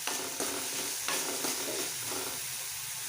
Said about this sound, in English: So as this is frying really well